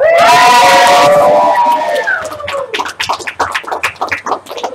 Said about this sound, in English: Cheer them on, everyone!